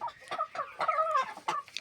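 Egg-laying and decorative chicken breeds, including Leghorns, cluck in a quick series of short, close calls, a soft nasal chatter rising and falling for a couple of seconds.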